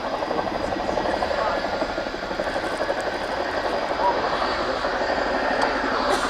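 An RAF Chinook helicopter in a flying display at the Royal International Air Tattoo 2019 gives off a loud, continuous rotor and engine drone with a throbbing beat, with a voice faintly under the noise.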